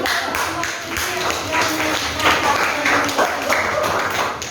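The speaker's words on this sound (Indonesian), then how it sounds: "beri tepuk tangan" Classroom applause after a group presentation, a mix of scattered claps and taps that fills the whole stretch at moderate level, with voices murmuring underneath.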